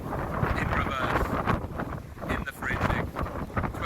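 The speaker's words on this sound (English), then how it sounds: "Still really windy." Strong gusty wind blows on a coastal walking path, buffeting the microphone with a loud, rough, continuous rumble that surges and dips over a few seconds.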